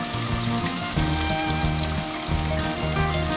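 A blooming onion deep-frying in hot oil gives a steady, close sizzle and crackle that runs the whole time, with background music playing over it.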